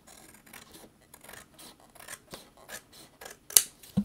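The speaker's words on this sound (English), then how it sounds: "so I'm going to trim off that edge." Scissors snip along the edge of card paper in a series of short, crisp cuts with quiet scraping between them, close and fairly soft, ending with a couple of sharper clicks.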